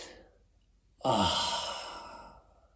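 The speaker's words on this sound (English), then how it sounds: "Just breathe. Breathe it in." A single long, deep breath drawn in and let out slowly, close and clear, starting after a brief quiet and fading gradually over about two seconds, as part of a breathing exercise for holiday stress relief.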